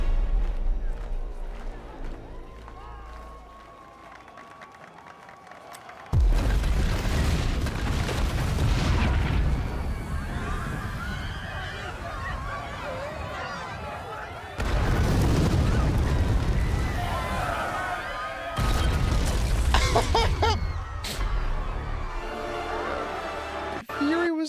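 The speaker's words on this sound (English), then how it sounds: "That explosion happened directly behind Gravik." Explosions in the TV show Secret Invasion, heavy booming blasts with loud rumbling bursts at about 6 and 15 seconds, mixed with score and action sounds under people talking.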